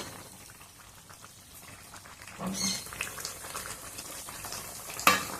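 Chicken curry simmers in oil in a pan with a soft, steady bubbling hiss, swelling into louder sizzling bursts partway through and again near the end.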